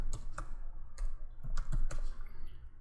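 Computer keyboard typing in quiet surroundings, an uneven run of close, crisp key clicks and clacks, with no talking.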